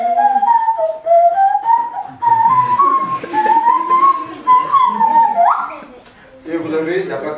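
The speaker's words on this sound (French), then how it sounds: "Ça, c'est un sifflet nasal." A nasal whistle blown through the nose plays a wavering, sliding melodic tone, loud and close, in several breathy phrases separated by short pauses, with a voice briefly heard near the end.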